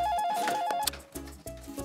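A cartoon telephone rings in short repeated electronic bursts, loud and close, with a brief pause between rings.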